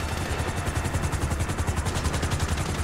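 Police helicopter in GTA V hovering overhead, a steady loud rotor thump pulsing rapidly and evenly throughout, with dense broadband clatter layered on top.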